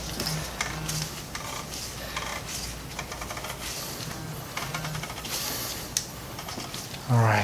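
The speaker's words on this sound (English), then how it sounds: "and then finish snugging it in with the wrench." A wrench snugs the oil drain plug on a Volkswagen Tiguan during an oil change, giving close, rapid metallic ratcheting clicks in short repeated bursts with brief pauses between.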